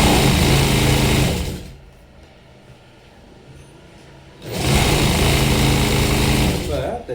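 A sewing machine stitches a blouse shoulder seam in two loud, steady whirring runs up close, broken by a quiet gap of a couple of seconds in the middle.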